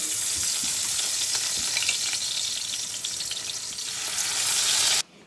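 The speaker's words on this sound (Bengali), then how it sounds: "তেলটা খুব ভালো করে গরম হয়ে গেছে, আমি পুঁটি মাছগুলো ভেজে নেবো একটা একটা করে" Steady, loud sizzle of small puti fish (pool barb) frying in hot oil, a dense crackling hiss that continues throughout and cuts off abruptly at the end.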